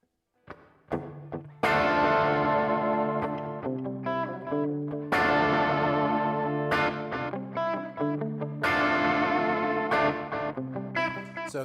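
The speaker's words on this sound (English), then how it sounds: "So this is a reverb and a delay." Electric guitar through a NUX Core reverb and delay pedal plays repeated chords and single notes, each one ringing out with long echoing repeats and a washy ambient tail.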